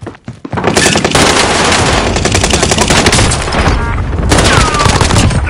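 PS4 video game gunfire: loud sustained bursts of rapid automatic shots after a short quiet start, with a brief lull before another volley.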